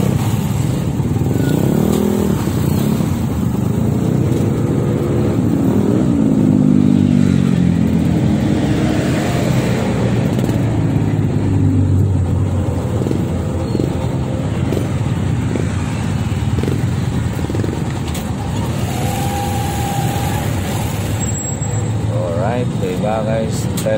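Congested road traffic with cars and motorcycles gives a continuous loud engine drone with passing revs, heard from close by while someone talks over it.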